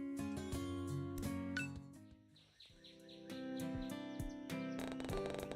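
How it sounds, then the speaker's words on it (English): Birds chirp outside in the morning, bright tonal notes against soft musical tones that dip briefly in the middle before returning. "Sounds of birds chirping happily outside pulled me out from my slumber"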